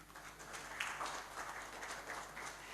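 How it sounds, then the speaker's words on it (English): Audience applause at the Stenom Foundation launch in a hotel venue, a steady wash of many hands clapping at moderate level throughout, without voices. "A round of applause, please,"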